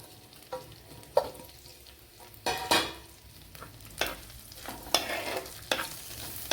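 Onions, green chillies, garlic and ginger sautéing in a pan for Kerala tuna fish curry. A quiet sizzle sits under repeated close scraping and clacking stirs at an uneven rhythm, with no talking.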